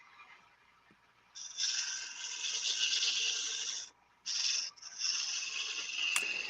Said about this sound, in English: I'm going to let me go ahead and shape the tenon for the box lid. Use the small parting tool for that.